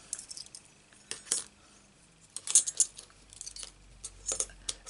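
Thin metal Stampin' Up Carols of Christmas cutting dies clink and rattle softly in several brief bursts as they are handled and pulled free, with scattered light metallic taps between the clusters.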